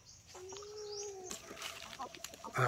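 Rhode Island Red chickens roam a farm, giving a drawn-out cluck and soft scattered clucks, faint and close, with a louder burst at the end.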